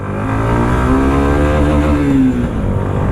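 A Suzuki Intruder 150 BS6 motorcycle engine runs loud and close, its steady drone climbing in pitch as the bike accelerates, with no voices over it.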